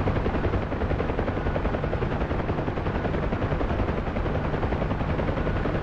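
A helicopter without stability augmentation flies in Helo Ops: Assault on Dubai. The rotor chop and turbine make a dense, loud, steady roar that continues unbroken throughout, with no voices.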